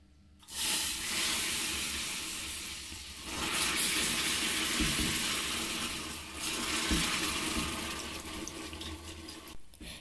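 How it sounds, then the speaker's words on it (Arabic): Half a litre of milk is poured gradually into hot caramel while being stirred, giving a close, rushing, hissing pour that swells and eases in waves for several seconds. "ومن بعد غادي نضيف نصف لتر من الحليب تدريجيا"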